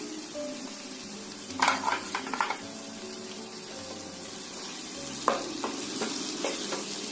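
Dry cabbage sabzi frying in a pan, a continuous sizzle with bursts of spatula scraping and stirring against the pan, close and fairly loud, no talking.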